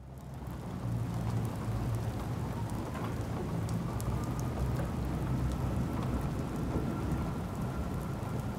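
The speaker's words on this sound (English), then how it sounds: "Hey, it's another rainy weekend." Steady rain pours down on a weekend in New York City, a dense continuous hiss with pattering drops and a low rumble underneath, with no talking.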